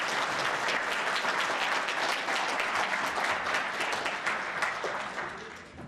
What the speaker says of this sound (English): This woman deserves a round of applause.